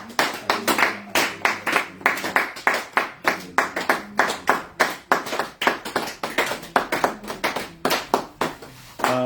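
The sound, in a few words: church congregation clapping to acclaim the King of Kings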